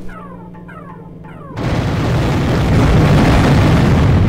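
A bomb explosion in Unreal Tournament's Operation: Na Pali mod erupts suddenly after quieter game sounds, a loud sustained blast and rumble that swells and holds to the end.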